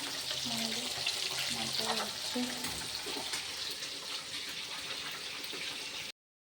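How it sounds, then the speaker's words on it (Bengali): Fish frying in a pan in a Bengali home kitchen during Saraswati Puja cooking: a steady, fairly loud hiss of oil runs throughout, with faint tonal background sounds beneath. "এই যে মাছ ভাজা হচ্ছে, এইখানে হচ্ছে।"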